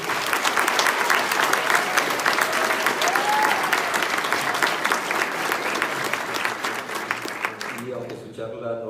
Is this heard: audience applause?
yes